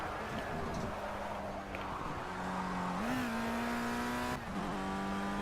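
A Formula Rookie race car engine in a racing game drones steadily near and loud, its pitch shifting with gear changes and throttle while a voice talks faintly underneath.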